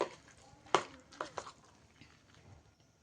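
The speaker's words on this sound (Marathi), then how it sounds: "आता हे सर्व असं मिक्स करून घ्यायचं आहे बॅटर" A spoon stirs a thick batter of grated potato, finely chopped onion and tomato for dal appe, giving a few soft scrapes and clicks against the bowl, quiet and brief.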